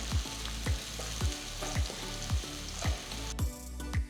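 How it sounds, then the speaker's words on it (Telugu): Chopped garlic cloves frying in a tablespoon of oil in a wide kadai, a constant close sizzle punctuated by regular rhythmic thumps of a spatula stirring about twice per second. "ఇప్పుడు ఒక వెడల్పాంటి కడాయిలో 1 టేబుల్ స్పూన్ నూనె వేసి అందులో తరిగిన వెల్లుల్లి రెబ్బల్ని వేయాలి."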